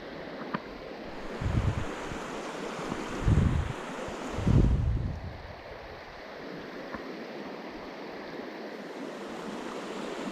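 Strong wind gusts outdoors beside a stream while fly fishing in the Laurel Highlands, rushing and roaring close to the microphone in several surges before easing into a steady blustery wash.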